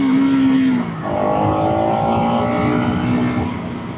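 A loud motorcycle engine drones steadily at close range in second gear, its pitch climbing as it accelerates past another vehicle, with rushing wind throughout.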